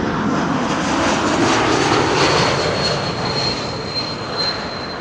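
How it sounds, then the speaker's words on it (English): A Swiss Bombardier C-Series airliner arriving at Amsterdam Schiphol roars loud and broad, its distinctive high engine whistle holding steady over the rushing jet noise, with no talk. "The sound you're hearing is a Bombardier C-Series from Swiss. Listen for the whistle."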